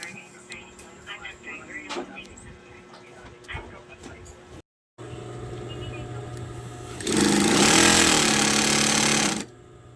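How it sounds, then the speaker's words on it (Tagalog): A high-speed sewing machine with a worn, loose eccentric runs with a harsh, rattling clatter that swells into a loud continuous burst for a few seconds after quieter mechanical knocking. "Medyo maingay na yung makina nila kasi may tama na yung centric"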